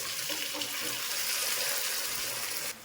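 Cooked mutton and its cooking water are poured into a frying pan, a loud, steady gushing splash that runs close and unbroken before stopping abruptly.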